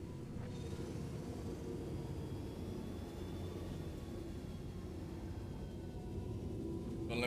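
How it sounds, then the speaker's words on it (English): Steady broadband roar of a spaceship afterburner in the video game Star Citizen, a continuous low rumbling thrust that holds for several seconds and swells slightly louder near the end. "let's get the afterburner back"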